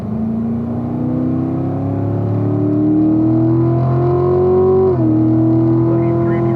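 A race car accelerates out of a turn on a track, its engine note loud and close, climbing steadily in pitch before a brief dip from a gear change, then pulling on.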